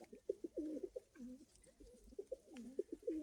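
Pigeons coo repeatedly in soft, throaty bursts, several birds overlapping close by, with faint background rustle and no talking.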